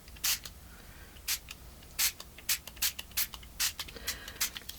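Tim Holtz Distress Spray Stain in antique linen is spritzed in about a dozen short, hissing bursts, close and crisp, with brief pauses between each spray.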